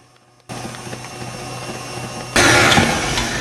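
An electric beater whirs into rich cake batter, starting after a brief quiet moment, running as a steady motor hum, then jumping to a louder, harsher whine for the last second.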